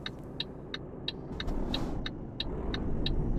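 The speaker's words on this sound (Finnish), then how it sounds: "Sieltä tulee henkilöauto" A passenger car in Euro Truck Simulator 2 passes along a busy road, its engine swelling and fading under the steady rumble of a truck, while a regular ticking indicator clicks through the whole stretch.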